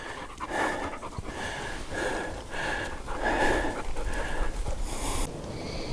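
Dogs pant rapidly and close after a hike on the Finnmark Plateau, rhythmic breathing bursts with occasional snorts and sniffs, fairly quiet outdoors with no talk.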